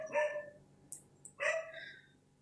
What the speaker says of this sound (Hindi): मैं पंगा भी नहीं ले सकती ऐसे भौंकते हुए कुत्तों से